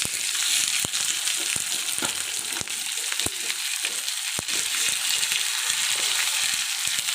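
Fish sizzles steadily in hot oil in a pan for a spicy fish fry, a continuous loud crackling hiss broken by sharp pops and spatters, with no voices.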